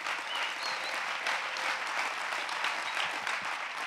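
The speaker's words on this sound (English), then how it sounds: "let's give God a hand clap" A church congregation claps for God during a sermon by Ps. Christian McCudden, a steady dense wash of hand claps filling the room throughout with no voices on top.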